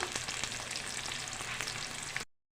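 Onions, green chilies and curry leaves fry in oil for an Andhra-style chicken curry, making a loud, steady close-up sizzle with faint crackles that cuts off abruptly.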